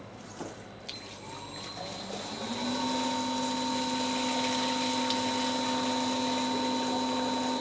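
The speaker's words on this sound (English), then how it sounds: "now we're going to clear the heat exchange with the fresh, clear wort" A pump pushes fresh, clear wort through a heat exchanger on a home brewing day, first rising, then settling into a steady whine with a sustained hum under it, continuous and fairly close, with no one talking.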